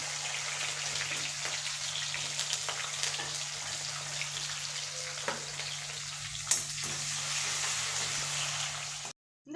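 Onion, garlic and curry leaves fry in hot oil with a dense, steady crackling sizzle, close and quiet, continuous with no voices until it cuts off at the end.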